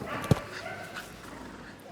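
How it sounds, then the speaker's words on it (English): A collie cross papillon gives one short, sharp yip at Crufts agility, set against the murmur of a large indoor arena crowd. "This is a collie cross a papillon."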